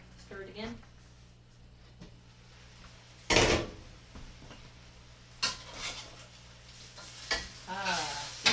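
A hazelnut dish fries in a pan on a barbecue, giving a soft sizzle under talking voices, broken by several scraping stirs and clinks of a utensil against the pan.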